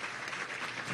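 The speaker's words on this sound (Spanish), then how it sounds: "le damos un aplauso al pueblo del Estado Anzoátegui" Crowd at a Venezuelan government housing handover event claps, a brief burst of steady, dense applause.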